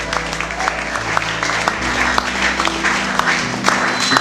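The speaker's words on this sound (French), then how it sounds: "Avec des acclamations, nous disons Amen." A church congregation at an evangelical jubilee service applauds and cheers, with loud clapping over a sustained tonal background that sounds like music, and crowd voices mixed in.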